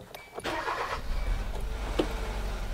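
A Kia Soul with a low-power fault that stalls at stops cranks briefly, then catches and runs with a low, rough rumble nearby, a faint voice appearing at one point.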